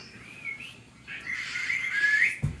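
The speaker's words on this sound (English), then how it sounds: "The whistle needs whistling." A thin, wavering whistle rises and falls over about two seconds, fairly faint, ending with a short knock.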